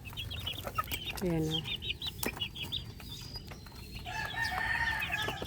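Young chicks from a brooder, with scattered peeps and clucks, a brief rising call and some wing flapping, moderately close, with a short spoken remark.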